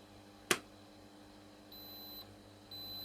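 A refrigeration controller, an LAE LF28, sounds a high-pressure alarm during a bench test: two steady electronic beeps, the second starting about a second after the first ends and running to the end, over a quiet hum after a single sharp click.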